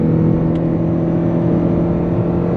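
A Toyota RAV4 Woodland SUV accelerates toward 60 mph, its engine holding a steady, droning hum heard from inside the cabin, loud and close with no talking.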